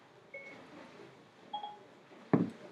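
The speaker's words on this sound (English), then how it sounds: "my phone just went off" A phone notification sounds as a few faint, short tonal beeps spread over a couple of seconds, closing with a sharper, louder blip in a quiet room.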